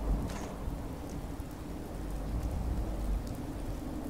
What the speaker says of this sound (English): Oh, and it's raining? We're going for a ride in the rain?